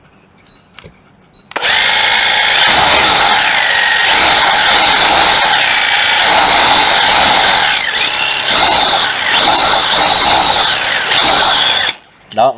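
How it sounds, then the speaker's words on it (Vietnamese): A used National 6813 24V concrete hammer drill, made in Japan, runs continuously for about ten seconds with a loud, close, buzzing hammering whine, starting after a few faint clicks and stopping near the end. "Hai mươi bốn là một con khoan bê tông Nati 6813"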